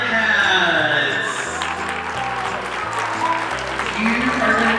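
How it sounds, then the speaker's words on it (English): Elementary school crowd giving sustained applause and cheering for donated iPads in a gym, loud and continuous with voices mixed in. "Round of applause."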